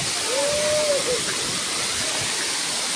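Batlag Falls, a waterfall, roars in a steady, loud broadband rush, with a brief voice at the start.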